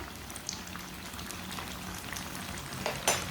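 A cheese sandwich fries in a pan with a soft, steady sizzle and light crackle that runs throughout, with a slightly louder pop near the end.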